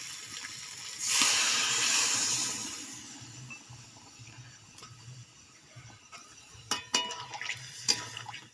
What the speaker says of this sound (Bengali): আন্দাজ মতো জল দিয়ে দেবো